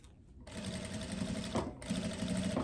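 A sewing machine stitches along the edge of viscose fabric with a steady, fast mechanical whir that pauses briefly once before running on, close and clear with no talk over it.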